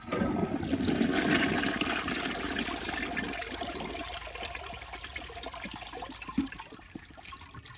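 A Jacuzzi Perfecta toilet flushes with a strong initial rush of water that settles into a gurgling drain and then a trickling refill, close and clear with no talking.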